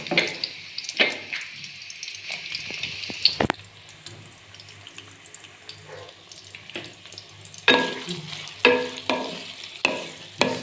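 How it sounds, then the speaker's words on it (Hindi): Onions going into hot oil in a kadai for a mixed vegetable sabzi, with bursts of loud sizzling and clattering stirring separated by quieter stretches, close by and without talk. "कढ़ाई में सबसे पहले हम प्याज डालेंगे।"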